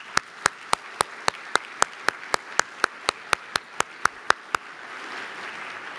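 Sharp, evenly spaced claps from what sounds like a single pair of hands at a technology summit, about sixteen in a brisk steady rhythm, fairly close, then trailing off into soft room noise.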